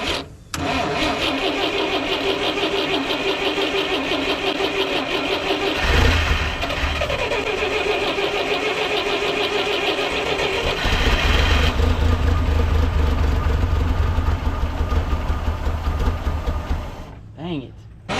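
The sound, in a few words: 1958 Lull cherry picker engine cranking and running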